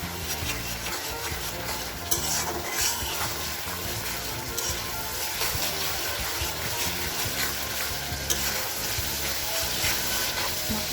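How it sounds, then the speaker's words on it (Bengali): Chicken pieces fry in hot spiced masala while being stirred, giving a dense, continuous sizzle with scraping and stirring noises layered through it. Loud and close, with no voices. "গেলে আমি এর মধ্যে মুরগির মাংসটা দিয়ে দিব"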